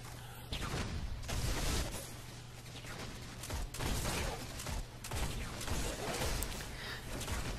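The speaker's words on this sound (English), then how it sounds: "I get to killing with my multi-tool." Multi-tool weapon in Destiny firing at Vex enemies, a dense rapid stream of shots and impacts in loud continuous bursts with brief dips, amid busy combat effects.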